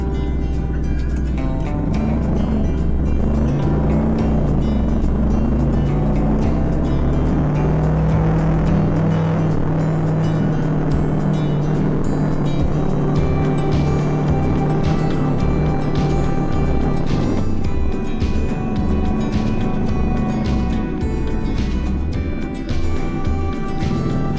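Engines rumble continuously on a narrow road near Bromo as jeeps carrying tourists pass by, a loud, steady vehicle drone with shifting revs and no clear gaps.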